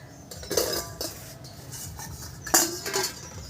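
Metal clanks and clinks sound as a lid comes off a cooking pot of amra pickle, two sharper clatters and some light scraping, close by, with no voices.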